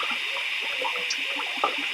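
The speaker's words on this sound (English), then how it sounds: "I'm not giving it full pressure on the hose." Water runs from a garden hose at reduced pressure while a VW T5 camper is being serviced, a steady close hiss and gush that continues without a break.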